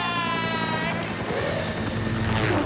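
A cartoon helicopter's rotor thrum and whine fill the scene steadily, with a high tonal whine fading partway through and a rumbling drone throughout.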